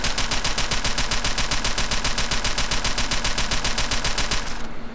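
An STG-44 rifle fires in full-auto in Gun Club VR, a fast, even stream of loud, close shots for about five seconds before stopping.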